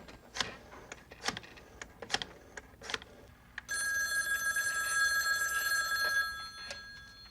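A telephone rings after a call is dialed: a few clicky dialing taps come first, then a bright continuous bell trill sounds for a couple of seconds before stopping, with no talk.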